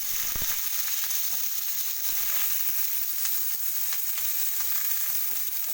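Pointed gourd pieces fry in hot oil in a wok, giving a loud, steady, dense sizzle that continues without a break from start to finish.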